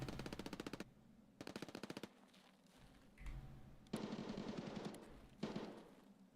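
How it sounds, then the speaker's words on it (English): Automatic gunfire in Escape From Tarkov, several rapid bursts of shots cracking out in quick rhythmic runs, separated by short pauses, with rumbling ambience and no talk. "There's already shooting going on over there"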